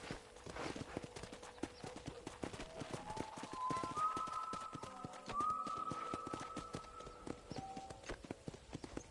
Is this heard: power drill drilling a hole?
no